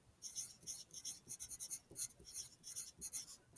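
Pen or pencil writing a date on paper, a quiet close scratching in short rhythmic strokes and bursts with brief pauses between, faint and alone.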